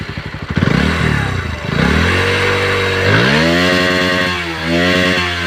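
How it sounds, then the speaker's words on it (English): A Bajaj Pulsar NS-125 motorcycle engine is revved hard close up, with sharp blips climbing to a loud sustained high-rpm whine, then falling and rising again in several pulls, with no talk. "First, NS-125 RPM sound check."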